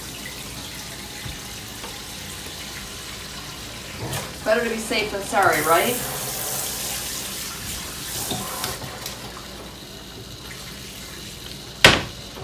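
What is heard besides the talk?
water running from a kitchen sink tap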